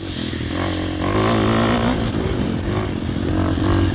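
KTM 500 motorcycle fitted with a Rocket slip-on exhaust, revving up and down close by with a deep, throaty, slightly rough engine note that runs continuously.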